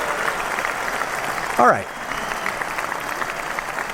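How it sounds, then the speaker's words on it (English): Steady audience applause with a continuous wash of claps throughout, and a voice speaking briefly over it partway through. "All right, nice round of applause."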